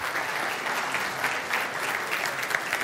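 Audience applause at a talk on digital tools and training standards in the building trades, a steady wash of clapping from a seated crowd lasting a few seconds, moderately loud.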